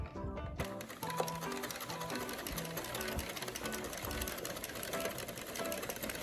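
An Addi knitting machine fitted with The Ultimate Tensioner cranks out rows of a beanie in loops-and-threads yarn, a steady, continuous mechanical clatter of rapid ticks close by, with a voice speaking over it at times.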